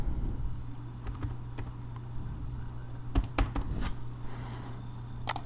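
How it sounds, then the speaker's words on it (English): Scattered clicks of keys being typed on a computer keyboard over a low steady hum, in short bursts with brief pauses between them. "So we're going to type that in right here."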